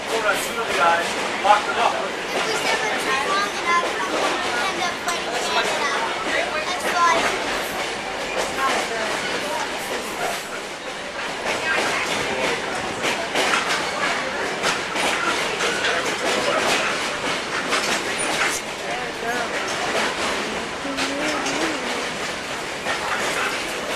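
A Lehigh Gorge scenic passenger train rumbles steadily along the track with a continuous rolling roar and faint rhythmic rail clatter, while voices talk over it throughout.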